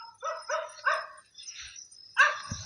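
A dog barks several times in quick succession, sharp yapping bursts, then a pause and one more bark with a low thump at the end.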